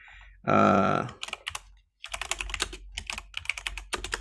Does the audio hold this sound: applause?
no